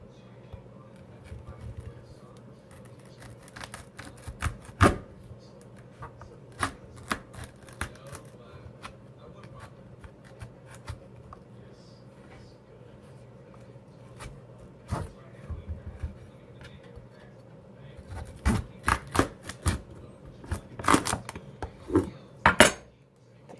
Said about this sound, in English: So I'm going to go ahead and cut this in half.